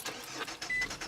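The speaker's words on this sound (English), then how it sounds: "My car won't start." A car engine cranks over repeatedly without catching, a close, loud mechanical grinding in uneven bursts with no voices.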